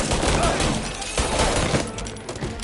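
Sustained loud gunfire from the video game Mafia Definitive Edition, rapid continuous shots in a dense firefight with voices shouting over it.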